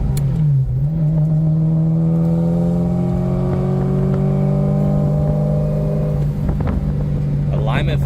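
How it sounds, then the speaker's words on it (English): A 1994 Ferrari 348 Spyder with its top up lets out a smooth exhaust note, one long steady tone that sweeps gently through the revs, close and loud, then fades at the end as a brief clatter follows. "Got the top up and just listen to that exhaust."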